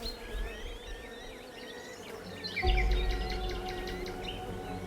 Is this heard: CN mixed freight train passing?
no